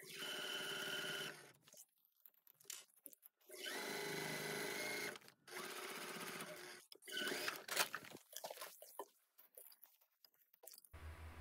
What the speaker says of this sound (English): I'm stitching forward into the point, needle down